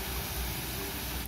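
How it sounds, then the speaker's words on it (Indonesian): Water sprays in a continuous close hiss onto a toy container truck being cleaned, loud and steady before cutting off at the very end. "Kita semprot dulu."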